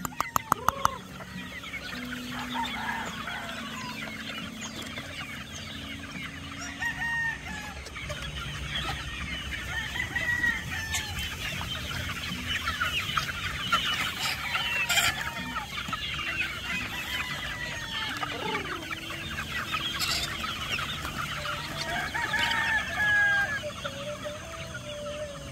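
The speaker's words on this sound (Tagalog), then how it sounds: "Healthy na mga sisiw natin mga kosa." Chickens and chicks on a Batangas farm cluck steadily throughout, with a rooster's crow rising at moments over a busy, continuous backdrop of fowl noise at moderate distance.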